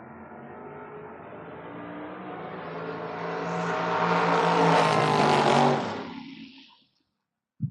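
Drag cars launch and scream down the strip at the FRBR Door Wars event, engine roar swelling louder as they approach and pass, then cutting off abruptly into near silence.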